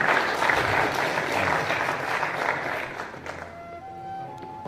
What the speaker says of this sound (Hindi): अच्छा, तालियां बजाओ।